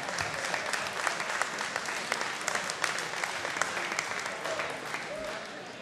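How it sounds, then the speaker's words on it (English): Crowd applause for a fighter after a bout, dense clapping heard from a distance and fairly faint, holding steady with scattered louder claps for several seconds. "Ladies and gentlemen, give Adam Fransto a big round of applause"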